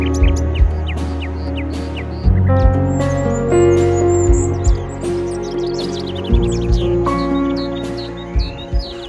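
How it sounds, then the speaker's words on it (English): Birds chirp and tweet in an autumn forest in Washington, many brief calls scattered across the scene, fairly close, over a steady low rumble of background noise. "The babbles of birds and rustle of fallen leaves underfoot greet my ear"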